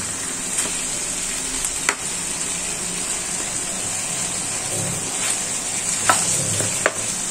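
Chicken fries in a pan over a raised gas flame, a loud, dense, steady sizzle close by with a few sharp scrapes and taps of a spatula stirring, no talking.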